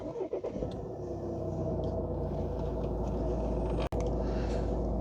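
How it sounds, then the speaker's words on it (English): A 2017 Volvo V40 D3 diesel engine cranks and catches, settling into a steady low rumble, with a brief click and a sudden cutout near the end. "Let's start the car up."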